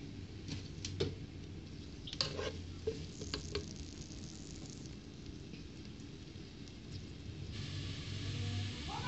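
Onions dropped into hot oil in a pan, giving a steady soft crackling sizzle like light rain, with a few brief clinks near the start, close and fairly quiet.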